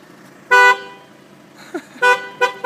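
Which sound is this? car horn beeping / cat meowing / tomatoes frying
car horn beeping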